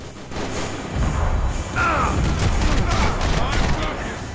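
Shotgun fire in Max Payne 3, a dense run of booming blasts and rattling shots throughout, with a voice talking over parts of it.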